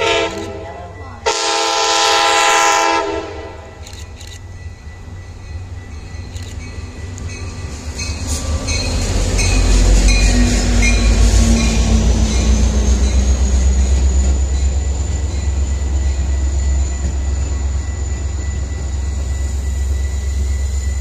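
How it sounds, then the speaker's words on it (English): A Metra Milwaukee West commuter train pulls into a station, its horn sounding loudly up close before a rising rumble, squeal and clatter of cars as it rolls in and slows. "Milwaukee West train number 2215 to Big Timber is now arriving."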